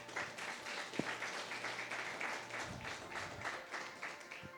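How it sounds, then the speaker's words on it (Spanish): A church congregation clapping during a sermon, a fairly faint, loose spread of hand claps with a low hum underneath and a few sharper taps standing out. "Denle un aplauso al Señor Jesucristo."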